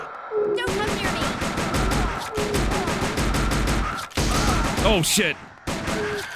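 Sustained automatic gunfire in the Silent Hill The Arcade video game, rapid continuous bursts broken by short pauses, loud and close, with a shocked voice and in-game cries over it.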